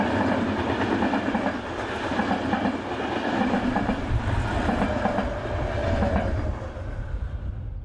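Locomotive 242-229 draws a stopping passenger train in, a steady loud rumble of wheels and clickety-clack rail joints carrying on throughout, with no voices.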